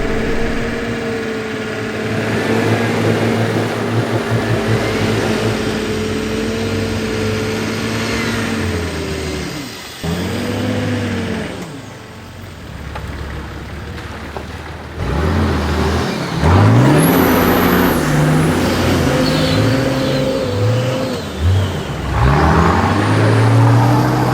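An off-road car on a muddy track idles, then revs up and down as its wheels spin in the mud. The engine note rises and falls in repeated surges, loud and close, with a brief dip midway.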